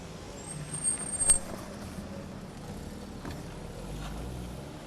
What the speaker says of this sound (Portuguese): apenas as caminhonetes se atrevem a passar pelo buraco